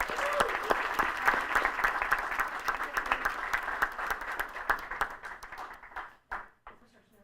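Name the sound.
audience applause at school board meeting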